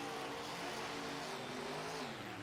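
Racing trucks roar over a jump on a race track, their engines a dense, continuous broadband rumble, moderately distant and unbroken, with no voices.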